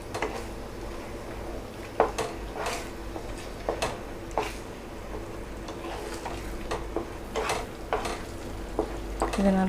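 Moong dal halwa being stirred in a pan after the sugar goes in, giving a soft, steady scraping and sizzling with irregular spoon taps against the metal, close and fairly quiet.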